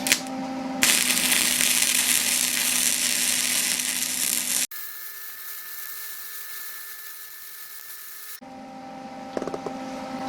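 Steady, harsh crackling hiss of gasless flux core MIG welding, running loud and continuous for several seconds, then a quieter, humming stretch before the crackle resumes near the end, with no one talking.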